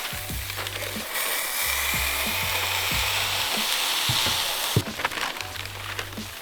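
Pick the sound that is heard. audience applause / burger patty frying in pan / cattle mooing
burger patty frying in pan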